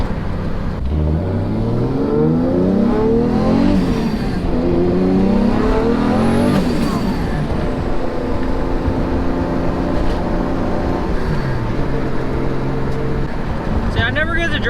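A car drives at night and revs hard through several gears, the engine note climbing and dropping with each shift, with a voice talking over it now and then.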